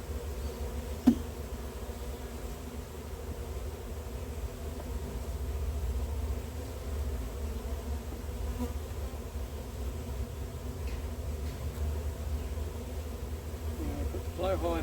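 Honeybees buzz steadily around an open hive during an inspection, a constant droning hum close by, with a short click near the start and faint handling sounds.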